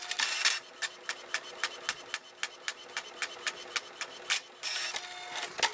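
A printer feeding a full-page shipping label sticker sheet: a whirring start and finish with a steady run of clicks ticking in between, close and moderately quiet, with no voices.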